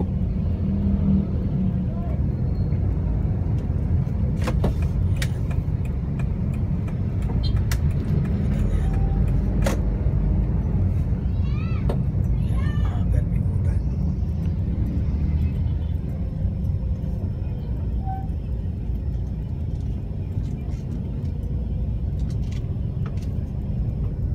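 Steady, loud rumble of idling and creeping jeepneys queued in Philippine road traffic, with engines droning continuously, occasional clicks and a brief horn-like tone, and a person talking faintly in the background.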